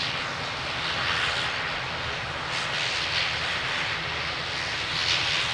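An airplane engine roars steadily at Lisbon Airport, a loud, sustained drone close by that swells slightly in places, with no voices.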